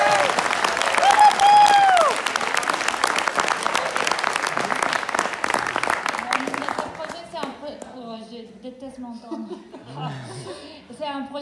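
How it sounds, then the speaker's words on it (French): A crowd bursts into loud, sustained applause that gradually thins out as a voice begins speaking over the last few claps. "on peut les applaudir bien fort"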